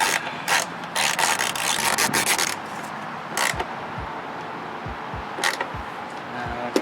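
A ratchet snugs 10 mm bolts back into place, with loud bursts of rapid clicking interrupted by pauses, followed by a few short separate clicks and low knocks, close by and without speech.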